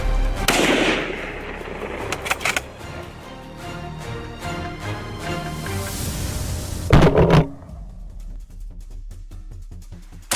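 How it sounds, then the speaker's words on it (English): Bursts of gunfire during a wild boar hunt in a pine forest crack and echo, several rapid shots in clusters with a loud volley near the end, followed by fading rumbling reverberation. "The thunderous crack of gunfire shattered the silence."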